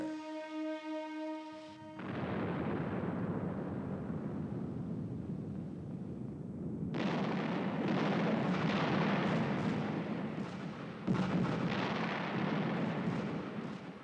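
Heavy naval gunfire and explosions rumble through a night battle off Guadalcanal as torpedoes are launched, a dense, continuous barrage of deep booms and blasts that swells loudly after a brief tonal lead-in, with no voices.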